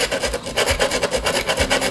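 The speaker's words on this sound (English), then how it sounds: "I'm just going to gently chisel this grout out the best I can." Grout being chiseled out by hand from around a broken floor tile laid on concrete gives a close, steady run of scraping, rasping strokes in a quick, repeated rhythm, with no talk.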